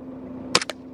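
A pistol fires nearby: a short burst of sharp, close cracks, two almost together and a third right after, over a steady low hum.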